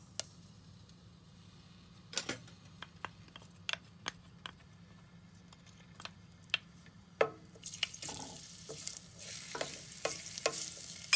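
Garlic frying in olive oil in a cold pan, faint sizzling with scattered stirring clicks and scrapes, growing into a steadier hiss toward the end.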